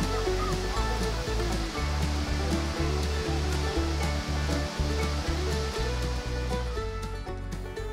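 The waterfall at Rayap Nisam in Aceh Utara roars as a dense, constant rush of falling water, loud and close throughout, with no voices over it.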